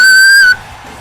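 A single loud, sharp whistle blast at a Smash Bros. tournament cuts through the room for about half a second, then gives way to a low crowd murmur.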